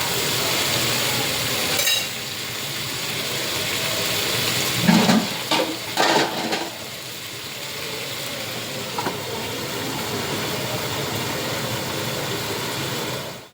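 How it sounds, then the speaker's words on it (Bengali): Chicken curry sizzles and fries steadily in a pan in a home kitchen, a continuous crackling hiss with a few louder stirring scrapes and clatters midway, no talking. "একটু ভাজা ভাজা হোক।"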